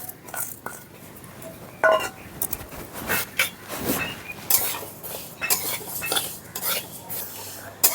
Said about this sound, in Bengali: মুগ ডালটা এখন ভেজে নেব।